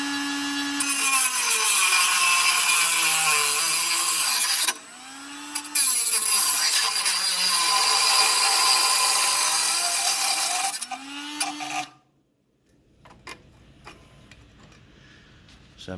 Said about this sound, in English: best thing I've found to use is probably a Dremel tool